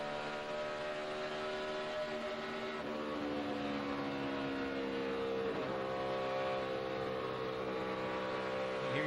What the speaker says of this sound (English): You hear him still having to work that throttle coming off the corner, though.